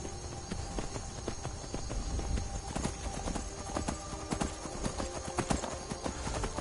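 Rhythmic clip-clop of horse hooves trotting steadily in Skyrim on PSVR, over a dense wash of background noise, with no talking.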